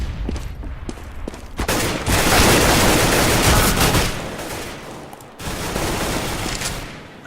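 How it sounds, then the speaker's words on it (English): Counter-Strike match on de_inferno, a loud rapid stream of automatic gunfire with scattered single shots, dense volleys continuing through most of the stretch with a brief lull, no talk. "Plenty of bullets being fired, but not a whole lot of actual action or damage being done at this stage."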